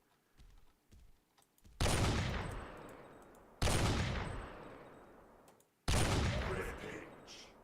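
Three heavy shots from a weak sniper rifle in a chaotic combat video game boom out a couple of seconds apart, each a loud sharp crack trailing into a long fading echo.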